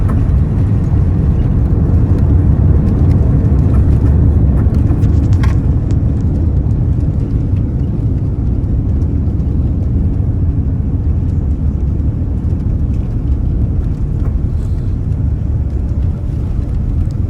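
A Saudia Airlines passenger jet comes in to land at Jeddah, heard from the cabin as a steady, loud low-pitched engine and airflow roar that holds evenly throughout without speech.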